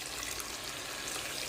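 Water pours from close by into a pan of homemade sauce sweetened with brown and white sugar, a steady, airy splash that runs the whole moment without pause.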